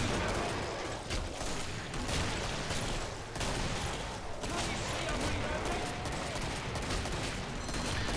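Rapid bursts of video game gunfire from Killing Floor, Husk fire among the shots, rattle through a busy, dense mix of repeated cracks and explosions at moderate level.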